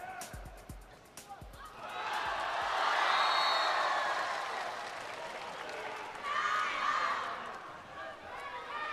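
Enthusiastic crowd at a water polo final with China playing, cheering and applauding in broad waves that swell, ease and swell again, with a voice speaking over the noise.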